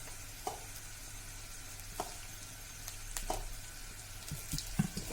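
Coconut flour sautés in oil for stuffed brinjal, giving a faint, quiet sizzle broken by a few soft spoon clicks and scrapes in the pan.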